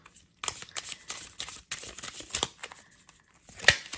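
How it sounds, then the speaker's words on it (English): A very large tea leaf card deck is shuffled in sections by hand: irregular bursts of crisp card riffles and rustles, close and clear, with short pauses between sections and a sharper snap near the end. "This deck is really big, so I've got to shuffle it in sections."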